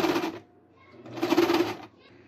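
A sewing machine runs in two short bursts of stitching along the edge of a knitted fabric doll's foot, a steady whirring buzz close by with a brief pause between runs.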